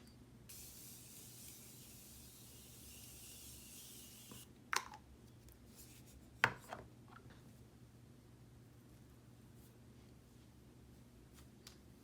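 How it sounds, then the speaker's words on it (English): A steady fine hiss of Morphe makeup setting spray runs for a few seconds, followed by quiet with a couple of sharp taps, faint and close. "I'm going to go back in with some more of this Morphe setting spray"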